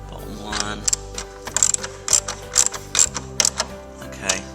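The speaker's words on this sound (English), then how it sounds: "Get the spanner on the back there, and then tighten these up." A 10mm socket ratchet tightens the grille bolts on a 2005 Range Rover Sport, crisp rapid clicking bursts repeated about eight times, close and clear, with a quiet voice underneath.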